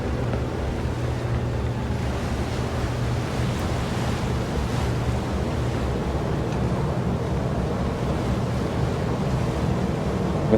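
Ocean waves roll under a constant wind at sea, a steady broad roar with low rumbling swells and no breaks, lasting the whole stretch.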